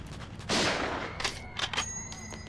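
A sniper rifle fires in the mobile game Sniper 3D Assassin: one loud, close shot with a long decaying tail, followed by a few fainter sharp reports and ringing game effects, with no talk.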